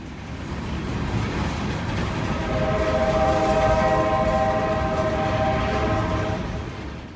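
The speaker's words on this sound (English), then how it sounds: "This train is coming out of Jacksonville, Florida." A Norfolk Southern freight train out of Jacksonville, Florida, led by AC44C6M and ES44DC locomotives, rumbles past in Georgia, loud and close, swelling and fading with a sustained horn-like tone midway.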